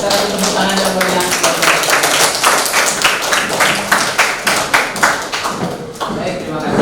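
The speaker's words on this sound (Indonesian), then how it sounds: "Kita akan tepuk tangan yang meriah" An audience at a classroom group discussion bursts into loud, dense clapping that fills the whole stretch, with individual claps standing out sharply toward the end while voices murmur underneath.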